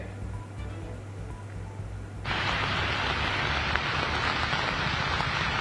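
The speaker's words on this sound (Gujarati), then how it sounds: "હાલ 8 દિવસના વિરામ બાદ અત્યારે ફરીથી વરસાદ શરૂ થઈ ગયો છે" Monsoon rain in Rajkot, Gujarat, returning after an eight-day dry spell: a faint patter that abruptly swells into a steady, dense hiss of downpour on surfaces and holds loud and even.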